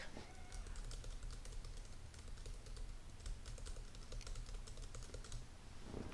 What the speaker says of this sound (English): First thing we're gonna try is some laptop keyboard noise.